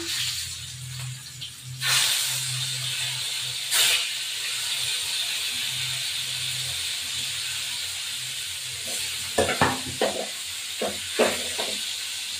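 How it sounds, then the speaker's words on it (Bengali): Bhola fish rubbed with salt and turmeric fries in a pan with a steady, close, hissing sizzle. A few sharp utensil knocks come near the end, with no talking. "এই ভোলা মাছ আমার নুন হলুদ দিয়ে মাখানো রয়েছে, এখন আমি ভাজতে বসেছি।"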